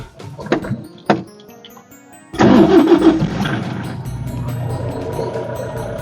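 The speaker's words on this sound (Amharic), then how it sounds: "ሶስተኛው ደግሞ ሞተር ከተነሳ በኋላ ነው።" A manual-transmission truck's engine cranks and catches after a few clicks and knocks, then settles into a steady, moderately loud idle that continues to the end.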